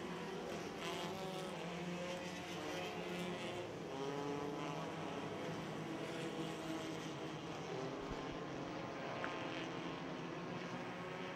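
Dirt track race cars roar around the oval at a raceway feature event, a steady, distant wash of engine noise with no clear single pass standing out; faint overall and without speech.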